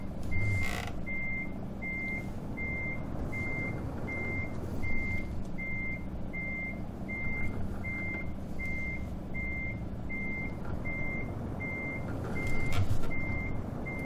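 Reversing alarm of a heavy truck backing into a tight yard in Euro Truck Simulator 2: a steady, evenly spaced beep repeats throughout over a constant low engine rumble, with no talking.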